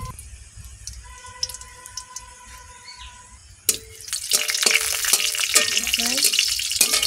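Dried red chillies dropped into hot oil in a wok: a quiet start with faint clinks gives way to a sudden loud burst of crackling sizzle that keeps going, close and busy.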